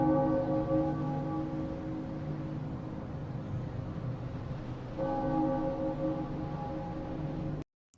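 A bell tolls in a video game, a sustained ringing tone with a second strike about halfway through, fading over a steady noisy background before cutting off abruptly.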